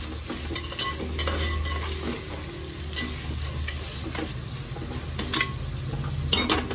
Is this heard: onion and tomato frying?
yes